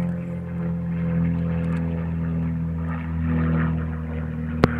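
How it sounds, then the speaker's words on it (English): A private propeller plane passes over a golf course during a tournament, its steady droning engine hum holding loud and even throughout, with a brief sharp knock near the end. "That's Sugar's private plane, isn't it?"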